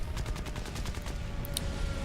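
Rapid bursts of cannon fire from an A6M2 Zero fighter in War Thunder rattle in a quick regular stream over a heavy engine drone, followed by a couple of sharper impacts.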